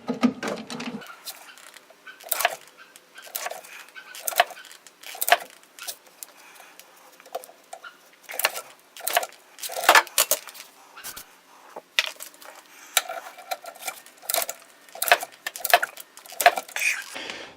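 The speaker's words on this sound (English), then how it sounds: "So I'm going to keep working on this bolt" An 18 mm bolt on a 1999 Ford Contour rear strut is worked loose with repeated short ratcheting clicks and metallic taps, coming in quick irregular bursts that stand out sharply against near silence.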